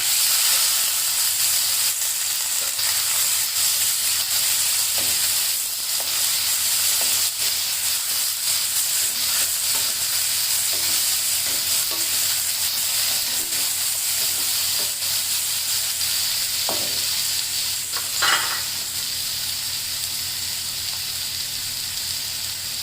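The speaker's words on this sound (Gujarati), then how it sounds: "હવે આપણે આમાં આપણા બાફેલા જે મગ હતા એ નાખી દઈશું" Boiled moong beans sit in a hot pan, giving a continuous close hissing sizzle with steam, broken now and then by faint clinks or stirring scrapes, with no one talking.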